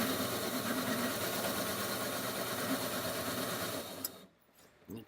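A shaved ice machine shaving a block of ice, giving a steady, loud mechanical whirring and grinding hum that runs evenly for about four seconds, then cuts off abruptly into near quiet with a few faint knocks.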